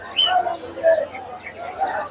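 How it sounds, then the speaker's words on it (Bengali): Pigeons coo in soft, repeated murmurs at a busy outdoor pigeon market in Mirpur on a hot, humid day, with faint chirps and a light background murmur around them. "এই যে একটা মাদি কবুতর"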